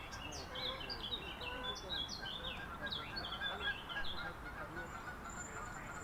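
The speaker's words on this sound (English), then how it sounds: "here we've got a Canada goose," A Canada goose in a park honks repeatedly, a run of nasal calls at moderate distance over an open outdoor background with other birds faintly chirping.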